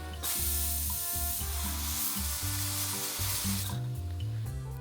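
A pressure cooker in a home kitchen, cooking kabuli chana, lets out a sustained loud hissing whistle of escaping steam. It runs steadily for several seconds under a layer of shifting low background tones, with no talk.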